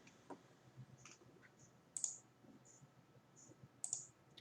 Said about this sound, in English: Click on this button